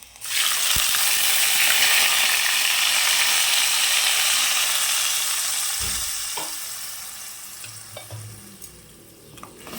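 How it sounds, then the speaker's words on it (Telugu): Chicken sizzles loudly in a pan as masala is stirred in, a steady broadband fry with occasional scraping clicks that eases slightly toward the end. "కొంచెం ఫ్రై అయిన తర్వాత ముందుగా తీసి పెట్టుకున్న మసాలాను అందులో యాడ్ చేయాలి"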